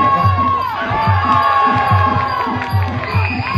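A crowd of fans cheering at a Muay Thai boxing match, a dense, loud roar of shouting voices over a steady rhythmic pulse of ringside music.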